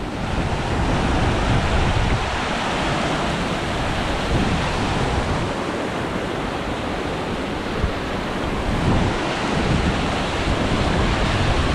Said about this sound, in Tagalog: Laka ng tubig.